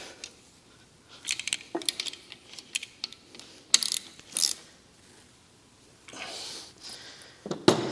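Quick bursts of metallic ratcheting clicks from a 19mm wrench or socket turning a fitting, close up and intermittent, with short quiet gaps between runs of clicks.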